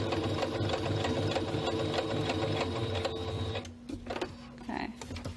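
A sewing machine stitches a tote bag along diagonal markings with a steady, close mechanical whir that runs continuously, then stops for a pivot, with a few brief whirs after.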